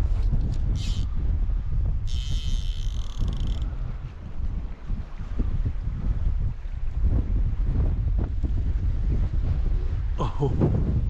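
Strong wind gusts outdoors beside a lake, roaring steadily in a low, buffeting rush against the microphone, with a brief voice heard faintly in the mix.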